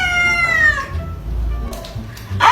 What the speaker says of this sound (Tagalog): May pusa pala kayo?